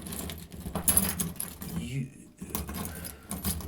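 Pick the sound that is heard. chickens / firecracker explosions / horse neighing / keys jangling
keys jangling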